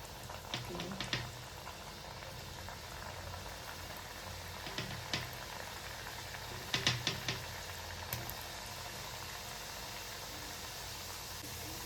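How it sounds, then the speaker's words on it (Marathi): Pieces of wheat flour dough fry in hot oil with a steady, soft bubbling hiss, broken by a few faint clicks and pops. "बघा एकदम मस्त तेल तापलेलं आहे आणि मस्त फ्राय होत आहे"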